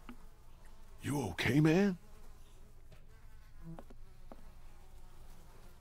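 Flies buzzing in The Walking Dead, a steady high-pitched drone that rises and wavers over a few seconds, loud and close, with a man's brief spoken line nearby and a quieter hum afterward.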